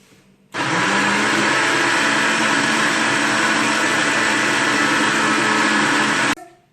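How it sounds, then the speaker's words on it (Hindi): A blender whirs loudly and continuously for about six seconds blending strawberry mojito with brown sugar, starting and stopping abruptly. "एक से 2 मिनट ब्लेंडर चलाने के बाद स्ट्रॉबेरी मोहितो रेडी है।"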